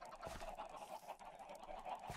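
Many chickens clucking in the Minecraft video game, a crowded overlapping chorus of short clucks and squawks, faint but continuous, with no talking.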